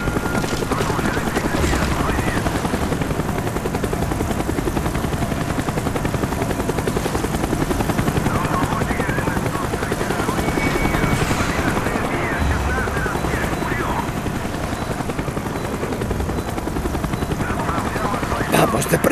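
A helicopter in the Call of Duty: Black Ops video game roars continuously and loudly overhead, with rotor noise filling the scene. Bursts of gunfire sound throughout, and voices speak over the din.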